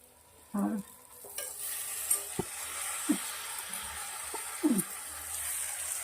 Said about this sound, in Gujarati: હવે આપણે ચોખા અને મગ નાખી દેવાના છે અંદર